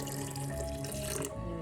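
Water pours steadily and close-up into a mixer jar holding coconut, garlic, shallot and cumin for grinding into curry paste, in one short, unbroken stream.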